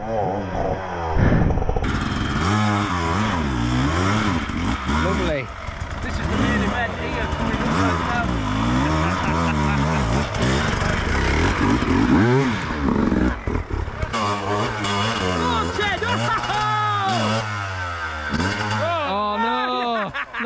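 A 2025 KTM EXC enduro motorcycle on a brand-new Michelin Medium 2 tyre revs hard and close, its engine pitch rising and falling in repeated bursts as it digs in, with voices talking underneath.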